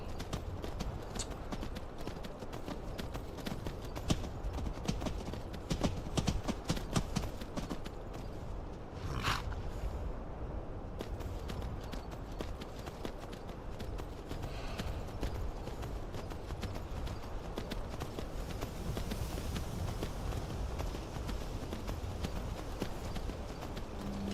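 Horse hooves clip-clop steadily in Skyrim, a soft continuous walking rhythm set under quiet game ambience.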